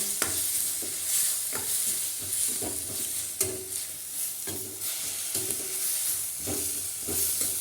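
A ground paste of shallots, pepper, cumin, tomato and green chilli is stirred into goat lung gravy in a hot pan, making a constant sizzle broken by repeated scraping strokes and spoon knocks.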